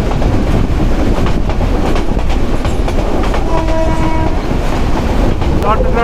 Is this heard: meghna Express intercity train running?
yes